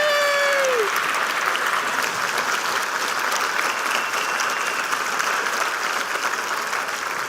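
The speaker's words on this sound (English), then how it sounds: "So a huge round of applause for these hardworking individuals" A large conference audience at a public health plenary applauds the NCSD Board of Directors. The clapping is loud, dense and sustained, holding steady throughout with a faint tone at the start.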